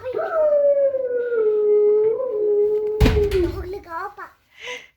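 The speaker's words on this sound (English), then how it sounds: "Hey Google, sound of a wolf. This is a grey wolf." A grey wolf howl played through a smart speaker: one long, sustained wavering howl that slides gently downward, cut off by a brief clatter, followed by a short whimpering tail and faint trailing noise.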